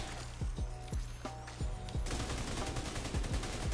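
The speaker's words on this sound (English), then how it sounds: "Take some shots, take some more shots, take some more shots" Rapid gunfire in The Division 2, a dense run of sharp close shots in steady bursts that grows thicker and more continuous toward the end.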